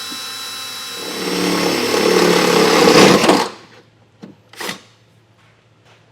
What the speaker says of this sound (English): we'll take a 1/2-inch drill bit and place it in about the center of that slot, and it'll start to slowly mark out a hole